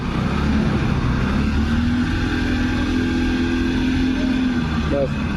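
A two-wheeler motorcycle trolley built to haul up to one ton, its engine running in a steady, close, droning hum that barely changes, with some voices over it.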